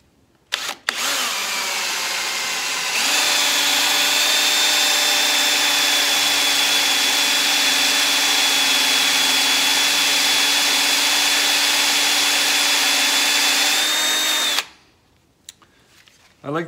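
A Forstner bit bores into elm wood, a power drill whining steadily and loudly up close for about twelve seconds before cutting off, with brief handling knocks around it.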